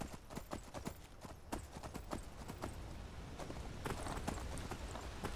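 Horse hooves clip-clop in a quick, steady rhythm as a horse is ridden in the video game Skyrim, moderately close over a soft continuous background.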